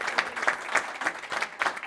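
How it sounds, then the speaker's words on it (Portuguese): Audience applause at a Portuguese GovTech education panel event, a short burst of rhythmic hand claps from a modest crowd, fairly close and steady. "Portanto, um aplauso para vocês, que também merecem."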